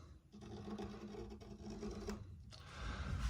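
A tool scrapes grime out of a Taylor acoustic guitar, giving a close, rapid rasping buzz that runs in short strokes, with a few brief pauses between passes.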